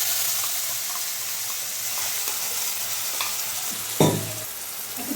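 Tomato-onion paste sizzles and fries with spices in a pan for a Bengali bhola fish curry, a steady broadband hiss with light stirring scrapes and a louder splash-like burst near the end, no voices.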